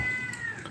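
A single cat meows once, fairly close and clear, with a rising drawn-out tone against a quiet background.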